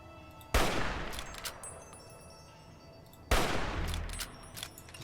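Two sharp gunshot blasts from Fallout New Vegas, the first about half a second in and the second near three seconds, each loud and followed by a decaying tail over a low ambient bed, with no talk.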